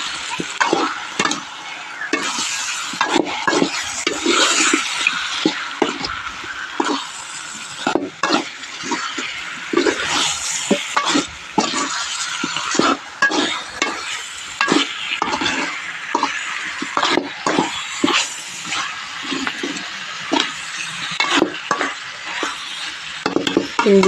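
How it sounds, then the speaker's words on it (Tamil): Meat curry is stirred in a frying pan, a steady run of scraping, clacking spoon strokes over a constant close sizzle, with no voices throughout. "கறியை சேர்த்தாச்சு, கிண்டி விட்டுறலாம்."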